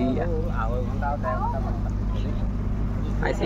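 A boat on the river to Majuli runs with a steady, loud low engine drone throughout, and a person talks over the constant rumble.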